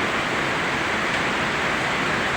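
Floodwater rushes strongly during heavy rain with thunder and lightning, a loud, steady broadband roar that stays constant throughout, with no voices.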